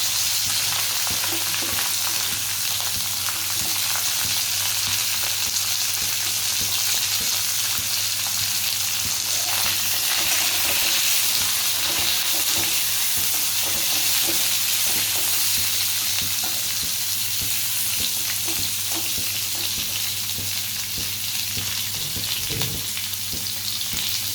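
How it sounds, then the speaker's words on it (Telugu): Chillies, coconut pieces and lentils sizzle and crackle steadily in a hot pan for a South Indian coconut chutney, with occasional stirring scrapes and no talking. "మిరపకాయలు వేసుకొని బాగా వేయించుకోవాలి."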